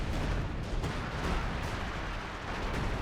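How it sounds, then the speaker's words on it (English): Dense explosions and artillery fire rumble continuously in a large 4v4 World War II battle on the Hill 400 map in Company of Heroes 2, loud and overlapping with no clear gaps. "Just so many explosions."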